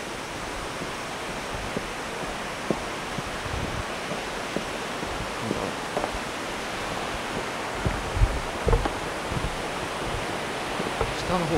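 A waterfall at Kawazu Seven Falls in Japan roars as a steady, broad rush of falling water, heard from somewhat below with faint voices now and then.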